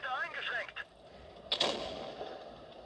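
The Erich Konzept 1 tank's cannon fires once in a video game, a sharp booming blast that rings out after a brief stretch of radio-like chatter and fades into a low rumble.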